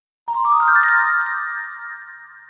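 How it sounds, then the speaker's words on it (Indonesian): A telephone ringtone: a single clear electronic tone with sustained harmonics that starts abruptly and slowly fades, alone with no other sound. "Lalu ia tersadarkan dengan bunyi telepon yang berdering."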